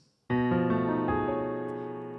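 A rich sustained chord, Scriabin's mystic chord transposed a half step lower, struck once on a piano-like instrument, many notes ringing together and slowly decaying, heard alone.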